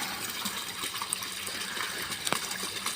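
Water steadily gushes and splashes into an aquarium filter setup built with pipework and a grid over moving bed media, a continuous close rushing with a few small drips and clinks.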